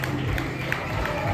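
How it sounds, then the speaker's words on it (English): Crowd applauding at a Tuner Fest car meet at night, a steady wash of clapping and cheering with engine-like rumble and voices mixed underneath. "Give yourselves a round of applause."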